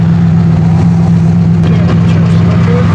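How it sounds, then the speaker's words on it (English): A steady car engine idle with a low droning hum and a faint whining, squeaky pulley noise running through it, fairly close and constant. "Sounds like pulley noise or something."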